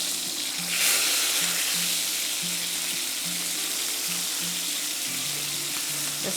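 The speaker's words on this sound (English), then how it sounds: "So move it around the skillet, and so all of the skin areas will get crispy." Chicken thighs frying skin-side in a skillet give a steady, close sizzle and crackle that runs the whole time, with low clatter from the pan being moved around.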